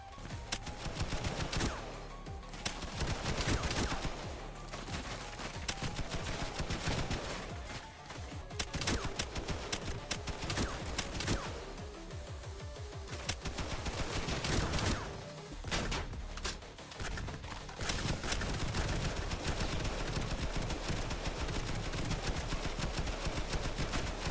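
An M60 machine gun in the video game Besieged fires long, loud, rapid bursts almost without pause, broken only by a few brief gaps between volleys.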